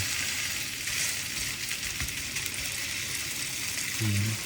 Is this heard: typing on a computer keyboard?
no